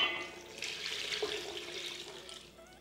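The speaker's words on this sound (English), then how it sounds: "So we'll pour in our 3 cups of our beef stock." Beef stock pours into a hot pan, giving a soft, continuous splashing and trickling sound at low volume for a few seconds, with no talking.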